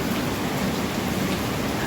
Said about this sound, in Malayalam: പക്ഷെ ഇവിടെ ഞങ്ങൾ എണ്ണീറ്റപ്പോൾ നല്ല മഴയായിരുന്നു.